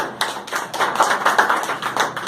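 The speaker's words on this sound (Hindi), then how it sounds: "ताली जाएगा जोरदार" Dense, continuous applause from a crowd, many hands clapping at once and fairly loud, steady for the whole stretch.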